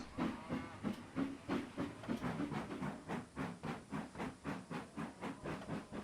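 A train passes in the Train Simulator 2019 game on a St. Erth route, producing a steady run of rhythmic clickety-clack pulses over a hissing, steamy rumble that stays fairly close throughout.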